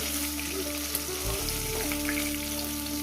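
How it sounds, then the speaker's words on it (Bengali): Tilapia fish frying in mustard-flavoured oil in a pan, a dense, close, continuous sizzle with fine crackles and a brief lower bubbling burst midway, with no talking. "মাছগুলো ভাজা হয়ে গেছে"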